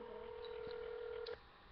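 A single steady telephone keypad tone sounds for over a second, then cuts off, leaving quiet line hiss as a phone number is dialed for a prank call.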